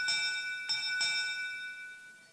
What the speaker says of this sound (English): ring the bell for notifications.